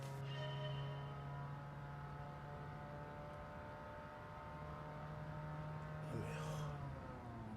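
A modded Toyota Prius with a CVT gearbox races in a video game, its engine a steady droning whir held at a constant pitch, with a brief higher swoop near the end and no talk.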